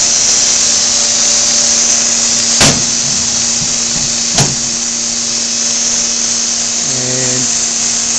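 A Bell & Howell MailStar 350 9x12 envelope inserter running, with a loud continuous motor whine and two sharp mechanical clacks, then a brief shifting tone near the end.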